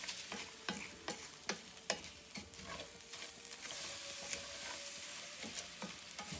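Butter fries and browns in a pan for Mexican rice, a soft steady sizzle with scattered clicks and scraping taps from stirring, fairly quiet and close.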